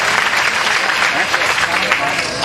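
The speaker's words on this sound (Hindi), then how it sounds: "चलिए एक बार जोरदार तालियों के साथ इस दीप प्रज्वलन का भी स्वागत करें।" Loud, dense applause from a large audience welcoming a lamp-lighting ceremony at the inauguration of a new girls' high school building, steady and sustained throughout with no pauses.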